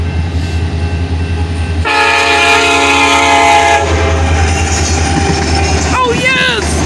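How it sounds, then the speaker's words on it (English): Union Pacific whiskey train passing at a street crossing: a loud sustained multi-tone horn blast over rumbling wheels and engine, then clattering cars rolling by while people talk excitedly nearby. "it is the whiskey train"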